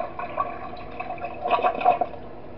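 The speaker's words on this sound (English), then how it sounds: "for Wario, we have to flush the toilet for him." A toilet flush in the horror video game Five Nights at Wario's 3, a brief rushing, gurgling swell of water that peaks and fades over a couple of seconds, fairly close with no talk.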